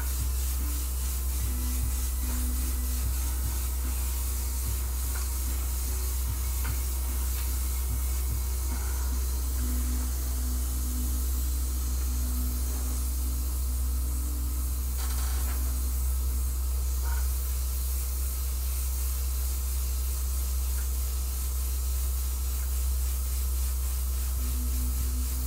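Airbrush spraying light coats of paint through a diamond plate stencil, a steady close hiss with a low hum underneath that runs unbroken for the whole stretch, with no talking.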